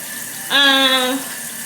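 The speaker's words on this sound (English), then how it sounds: "about to wash this wig" A tap runs steadily while a wig is washed in a sink, a constant rush of water. A short, tonal, pipe-like whine rises over it for about half a second.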